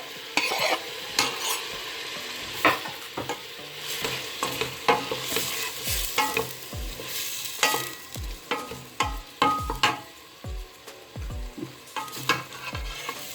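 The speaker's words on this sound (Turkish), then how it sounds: "Şimdi soğanlarımı atayım. Bir iki de soğanlarımı da çeviriyorum." Onions fry in a pan with a steady sizzle, broken by frequent scraping and clinking as a utensil stirs them against the metal. The sounds are close and irregular, with no voices.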